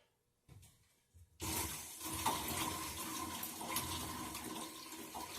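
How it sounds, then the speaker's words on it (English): Hot water rushes from a cheap eBay water heater's outdoor shower, starting with a couple of sputters before a steady, full-bodied spray flows continuously, close and moderately loud. "that's hot water coming out of there"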